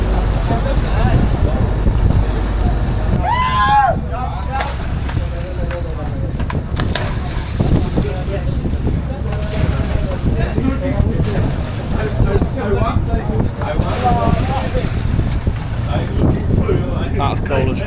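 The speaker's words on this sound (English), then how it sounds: "And now the boat's still moving away" A boat motor drones steadily over splashing water and gusty wind buffeting the microphone on a scuba trip in Egypt, with voices talking intermittently over the noise.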